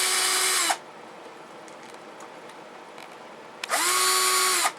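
A power drill backs screws out of a wooden Mad Catz Fender controller, two loud whirring bursts at start and end that wind down in pitch, with quiet handling noise between.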